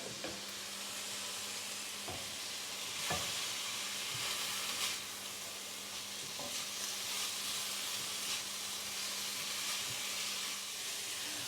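Steady sizzling and crackling of vegetables stir-frying in a pan with a splash of water for chicken chow mein, with occasional clatter of stirring, continuous and close.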